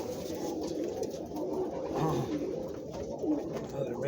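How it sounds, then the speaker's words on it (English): Breeding-season birds in a pen call out together, low cooing and squawks blending into a steady, crowded chorus close by, with a voice talking over them. "What are you squawking about?"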